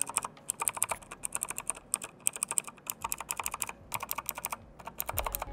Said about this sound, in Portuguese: Então esse aí é o som das teclas do teclado CK99.